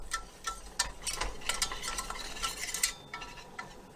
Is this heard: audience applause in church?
no